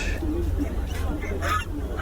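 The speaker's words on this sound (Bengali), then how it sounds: "এই যে এই সাইডে আছে আপনার রাজা হাঁস" Geese honk at Barmi Bazar, a large old market in Gazipur, Bangladesh: a few nasal calls, one louder burst near the end, over a steady low market rumble.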